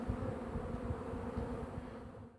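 A dense, steady drone of many honeybees buzzing close by at the hive, continuous and fairly quiet, with no voices.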